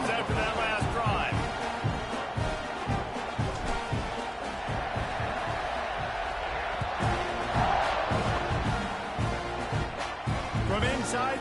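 Football stadium crowd buzzes and cheers ahead of a kickoff during a college game, a dense steady roar with scattered thumps and shouts, under a commentator's voice.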